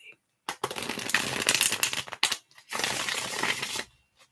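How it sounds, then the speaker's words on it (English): Playing cards being shuffled during a calm tarot-style reading, with several bursts of riffling and rustling separated by short pauses, close and fairly loud. "I will be done shuffling the cards just shortly"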